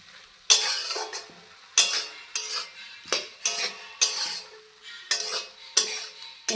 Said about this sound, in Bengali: ভালো করে মিলিয়ে নেব।